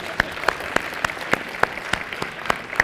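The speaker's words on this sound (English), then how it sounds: "You may clap." An audience at a talk at IIT gives a brief round of clapping, a handful of sparse, evenly spaced claps in a rhythmic pattern, near and fairly soft.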